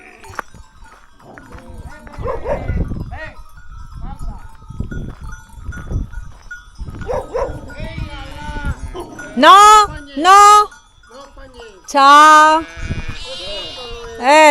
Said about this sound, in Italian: Estoy yendo a ver, amigos, el greye, o sea, las ovejas